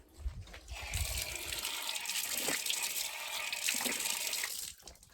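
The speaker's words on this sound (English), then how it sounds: "You have very lovely cold water here" Cold water pours from a spring-fed aquifer storage in rural central Portugal, a steady rushing gush that starts after a few low knocks, holds for about four seconds and then cuts off.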